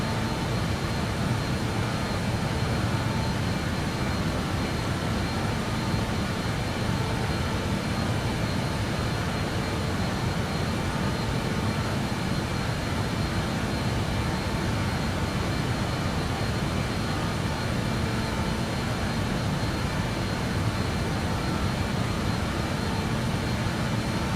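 BAe 146 jet engines in Microsoft Flight Simulator 2020 give a loud, steady roar with a broad rushing hiss that holds without change for the whole span.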